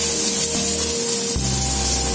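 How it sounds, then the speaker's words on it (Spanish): Chopped onion sizzling in hot oil in a pan for a Spanish vegetable cream soup, a loud, steady hiss with a brief change in tone midway as the frying continues. "Vamos a sofreír la cebolla"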